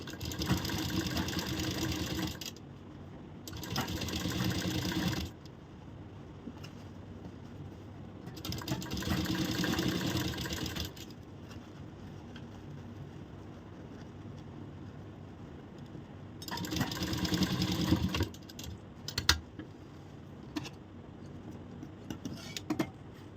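A sewing machine stitches a blouse in quiet, close runs. Four bursts of fast, steady whirring clatter each last a few seconds and are split by short pauses, with soft handling noises in between.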